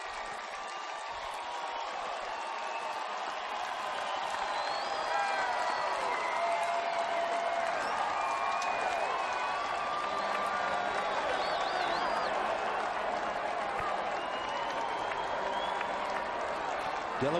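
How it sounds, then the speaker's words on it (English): Large stadium crowd at Paulson Stadium during a Maine versus Georgia Southern college football game, cheering, whooping and applauding in a steady, sustained roar that fills the whole stretch without letup. "And listen to this crowd at Paulson Stadium."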